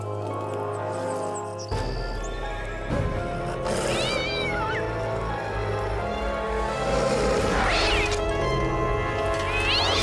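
A cartoon cat in a French animated series meows several times, drawn-out wailing cries over background music, with brief talk.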